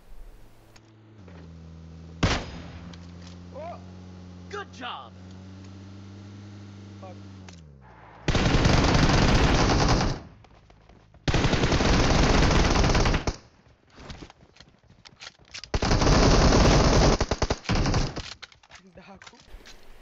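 Bursts of automatic gunfire in PUBG Mobile, including a K98-style weapon context, sound in three loud sustained volleys separated by quieter gaps, with someone speaking over the opening stretch before the shooting.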